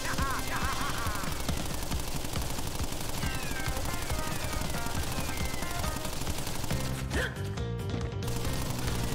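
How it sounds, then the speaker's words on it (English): Steady rapid Tommy gun fire from a boss in Crash Bandicoot: N. Sane Trilogy, a continuous rattling burst beneath game music, briefly interrupted near the end. "His Tommy gun isn't always reliable."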